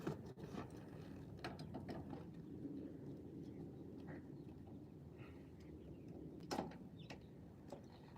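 A ratcheting driver loosens breaker screws on a residential electrical panel during a service upgrade, giving a close, quiet, continuous clicking whir with a few sharper clicks.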